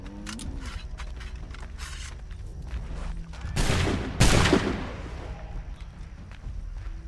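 Gunfire in the video game Assassin's Creed III, a burst of loud rapid shots midway through, set against quieter in-game clatter and footsteps before and after.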